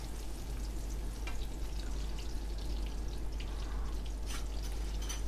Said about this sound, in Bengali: আদা রসুন দিয়ে তেলের মধ্যে ভালোভাবে এটাকে নাড়তে হবে যেন আদা রসুনের র ফ্লেভারটা চলে যায়।